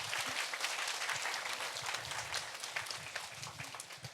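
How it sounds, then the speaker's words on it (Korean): A church congregation claps in warm, dense applause honoring elderly members, the crackle of many hands steady and fairly near, tapering slightly toward the end. "우리 박수 한번 쳐드릴까요?"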